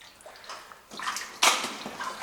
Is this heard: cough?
no